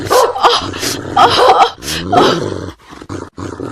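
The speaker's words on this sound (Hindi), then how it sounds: "एक बड़ा सा विदेशी कुत्ता दौड़ते हुए आया और मालती के हाथ में काट लिया और जोर जोर से भौंकता रहा।" A large dog barks loudly several times in close, rapid bursts, with whining yips mixed in, then quiets briefly before a softer yelp.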